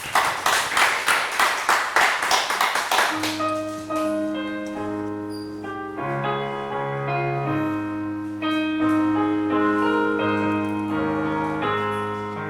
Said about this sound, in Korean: 우리 영광의 박수 드리겠습니다.